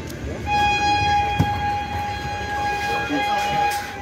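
The Kanchanjungha Express waits at a station before departure, a steady tonal horn or whistle sounding almost continuously over a busy platform murmur of faint background voices.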